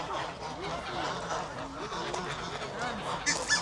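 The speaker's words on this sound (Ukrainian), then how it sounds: "Гусяки. А, бо їх кормлять хлібом тут." Geese honk repeatedly while being fed bread in a small village-like spot in Legnano, Italy, their nasal calls coming in overlapping bursts at moderate distance, mixed with people talking nearby.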